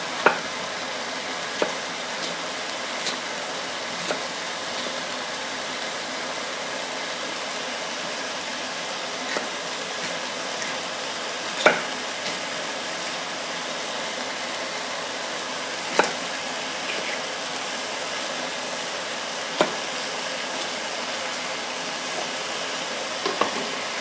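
Meat sizzling in a frying pan as leftover water boils away, a steady close hiss of crackle and spatter with a few sharper pops scattered through, heard alone without voices.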